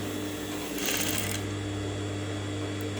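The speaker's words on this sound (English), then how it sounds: "So yeah, I'm stitching once again now." A sewing machine stitches ribbon along a magnetic sewing guide, its close, steady mechanical whir running without a break for a few seconds.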